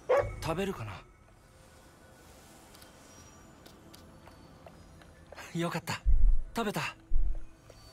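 A dog in the video game Ghostwire: Tokyo barks and yips in short clustered bursts at the start and again near the end, close and fairly loud, with a quiet game ambience between.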